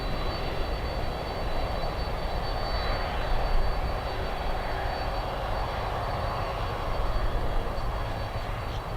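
An airliner at Miami International Airport rolls quickly toward takeoff, its engines giving a loud, steady broadband roar that holds throughout with no voices.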